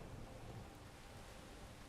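Rain falls in the video game Space Engineers, a faint, even hiss of broadband noise that stays constant and unbroken throughout.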